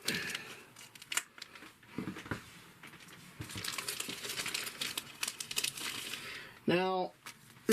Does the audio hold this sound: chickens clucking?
no